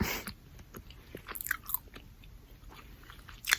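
Gum chewed right up close to the mic, soft wet smacks and crunchy bites recurring in an uneven rhythm, quiet and intimate with sharper clicks near the end.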